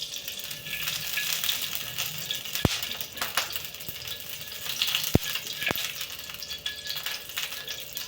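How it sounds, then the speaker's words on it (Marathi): Ghee (clarified butter) heats in a kadhai, giving a steady, bright sizzle and crackle throughout, with a few sharp metallic clicks from the pan. "साजूक तूप आपण या कढईत घेतलेलं आहे"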